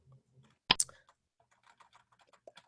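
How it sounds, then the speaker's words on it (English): Computer keyboard typing on a Windows PC, a loud double click up front followed by a run of light, irregular key taps, fairly close and with no voices. "if I hit the Windows key and start typing, I could search"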